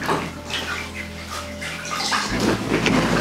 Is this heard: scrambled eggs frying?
no